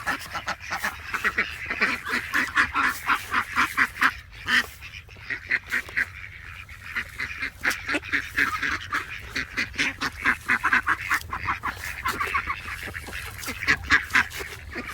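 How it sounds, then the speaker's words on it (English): Ducks nesting in spring quack steadily outdoors, a dense run of rapid honking calls overlapping one another at moderate loudness, with faint background hiss and no talk. "as it's springtime at the moment, I know I've got some ducks nesting somewhere."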